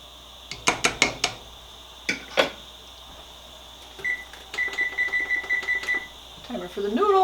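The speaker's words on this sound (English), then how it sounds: "Timer for the noodles." A kitchen timer set for noodles while macaroni skillet cooks gives a quick run of about eight evenly spaced, bright electronic beeps, after earlier sharp clinks of pans and utensils nearby.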